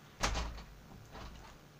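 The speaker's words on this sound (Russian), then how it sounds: "Закрываем дверь." An interior door is pushed shut in a room being painted, giving a single close thud with a short rattle and quieter settling sounds afterward, with no talking.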